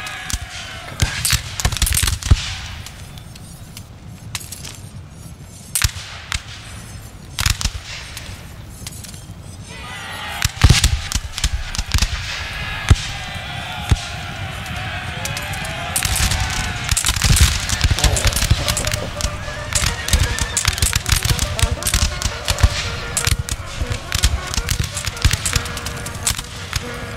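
Musket volleys in Napoleon Total War, sharp scattered cracks and ragged salvos over a battle din, some near and loud, others thinner, with someone talking over parts of it.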